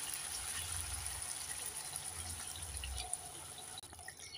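Water poured into a pan of boal fish curry after the fish is fried with spices, a steady broadband rush of pouring liquid lasting about four seconds before stopping abruptly, alone with no talk.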